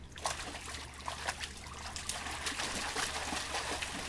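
A child splashes water in a pool, giving a continuous close run of small splashes and trickles over a low steady hum.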